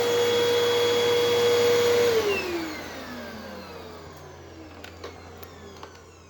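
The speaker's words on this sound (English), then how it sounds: "That is the Hoover Wind Tunnel 2." A Hoover Wind Tunnel 2 upright vacuum cleaner runs with a loud steady whine, then is switched off and winds down, its pitch falling and fading over several seconds, followed by a few faint clicks.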